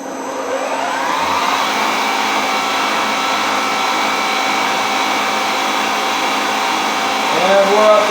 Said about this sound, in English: Spin it up full RPM. I've got it in the highest gear, which is 1530 RPM.